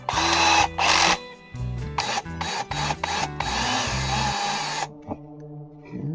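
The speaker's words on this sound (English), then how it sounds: "I need to countersink this" Power drill countersinking a hole in cedar wood, several short whirring bursts with the bit grinding and rasping into the wood, close by, before it stops near the end.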